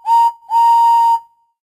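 Thomas the Tank Engine's steam whistle in a kids' game gives two loud, clear toots, a short one and then a longer one, before dropping to silence.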